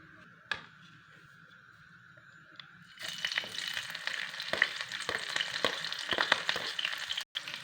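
Onion and green chili fry in oil in a kadai on a gas stove, first a quiet low sizzle with a couple of clinks, then a loud steady crackling sizzle after the vegetables are stirred, with scraping stir sounds throughout.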